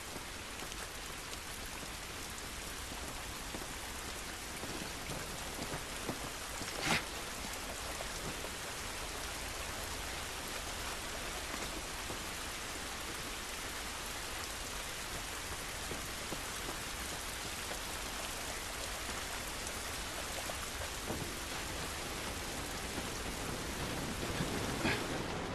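Steady rain falls in the video game The Last of Us, a constant hissing downpour on surfaces with a few sharp drips or cracks standing out.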